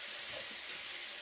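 Leeks dropped into a hot pan give a steady, even sizzling hiss that is close and fairly loud and lasts about a second.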